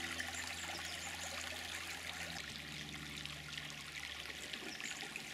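Gentle, continuous trickling of a small stream, soft and steady, with no voices.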